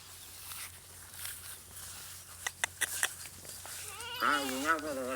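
Goats bleat near the end, a wavering, harmonic call rising over a quiet farm background, with a few sharp footstep-like taps and soft rustling just before.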